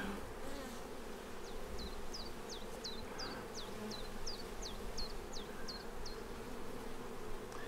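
A dense, steady buzz of many honey bees up close at an open hive, with a series of faint high chirps recurring at a regular pace above it.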